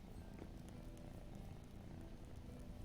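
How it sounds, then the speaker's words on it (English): Soft, continuous purring of a cat in a modded video game, a low steady rumbling close by that runs alone without talk. "Can you hear him purring?"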